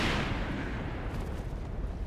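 Thunder from lightning in the horror video game The Evil Within, a loud sustained rolling boom that starts hard and rumbles on steadily for about two seconds, with no talk over it.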